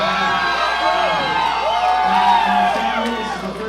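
Crowd at an SCL47 pro fight night cheering loudly and steadily, with whoops and shouts rising and falling, people talking amid the roar throughout.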